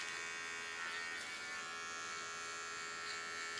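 A small electric hair clipper shaving the side of a head, a steady close buzzing hum with slight shifts as the blades move, no voices.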